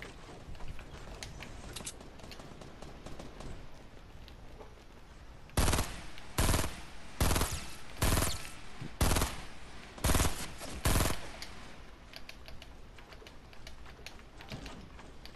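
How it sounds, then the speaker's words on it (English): Gunfire in the Fortnite video game comes as a series of sharp, loud bursts in a tight run partway through, set against quieter game background noise. "I'm getting shot at."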